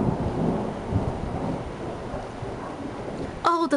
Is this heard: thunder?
yes